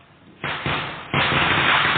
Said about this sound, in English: Just like here, the firework is going on.